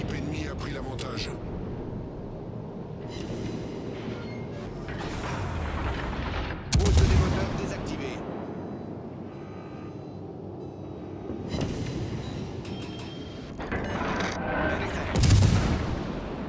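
Naval gunfire from a warship's armour-piercing shells in World of Warships: Legends, with several heavy booming salvos spread across a steady game backdrop while a voice talks over it.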